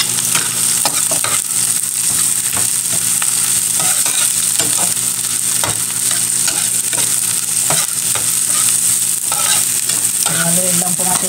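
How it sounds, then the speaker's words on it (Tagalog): Garlic and onion sauté in a small frying pan, a steady close sizzle of oil running throughout with occasional scrapes and clicks of stirring. "Habang nagigisa po ako ng bawang at sibuyas, nilalagyan ko na rin po yan ng paminta."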